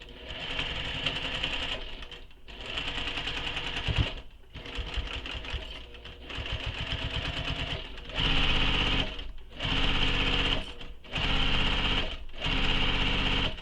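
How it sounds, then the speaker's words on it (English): A sewing machine stitches a seam on a handmade travel bag, loud and close, running in steady rapid bursts separated by short stops. "And sew this with the seam allowance given in the pattern."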